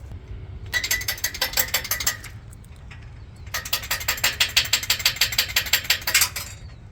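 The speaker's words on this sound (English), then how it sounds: "Taking the wheel well liners off right now." A ratchet wrench backs out small 7/32 bolts holding a wheel well liner on a Ford 4.6 3V, in two fast bursts of close, crisp clicking separated by a short pause.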